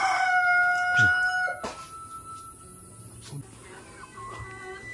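In a highland West Java village, a rooster crows loudly nearby, followed by scattered clucks and chirps from uncaged birds in the background.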